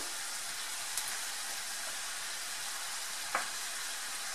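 Beef tongue stew fries steadily in olive oil, a continuous close sizzle with faint stirring clicks and no voices.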